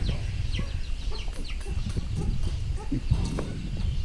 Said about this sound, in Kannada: ಕುಕ್ಕು ಕುಕ್ಕು ಕುಕ್ಕು ಅಂತದ್ದು ಕೋಳಿ